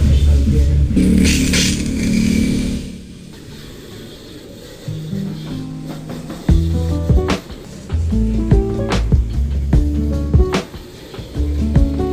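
A steady hiss of water spraying on a Yamaha Mio i 125 motorcycle, then rattling, clunking handling noises and rhythmic thumps over a continuous wash of sound.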